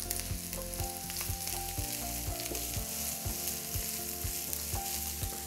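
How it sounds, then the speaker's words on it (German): Onions and garlic sauté in a pan for a Bolognese sauce, a steady close sizzle running throughout, broken by repeated rhythmic scraping or stirring knocks. "Wir lassen die Zwiebeln ein bisschen mit andünsten."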